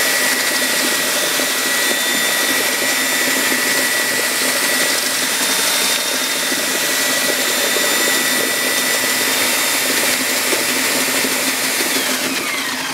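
A Collomix paddle mixer spins at high speed in GFRC countertop concrete, a loud, steady whirring drone with grinding texture that holds unbroken throughout.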